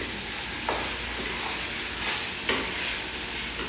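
Coriander is stirred into a sizzling keema curry: a soft, continuous frying hiss with a few scraping stirs of the spoon in the pan, close by and fairly quiet, with no talking.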